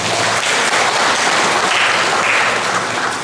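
Loud, dense applause from a church congregation at a choir psalm-singing event, continuous clapping with no speech over it.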